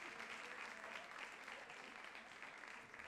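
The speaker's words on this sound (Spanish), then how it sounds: "Un aplauso para las chiquillas, por favor." Steady, dense applause from a concert audience in a music hall, a continuous wash of clapping with no break, fairly faint and distant.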